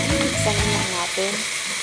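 Canned Century tuna stirred into browned garlic and onion in a hot pan, a loud, dense sizzle with scraping, clattering stirs of a spatula across the metal.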